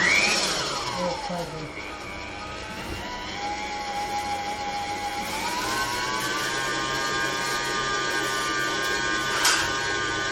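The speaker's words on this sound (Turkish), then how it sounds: "Makineyi çalıştırıyorum." A kneading machine motor starts up on brioche dough, its whir climbing in pitch and then settling into a steady, fairly loud hum with mechanical rattle beneath.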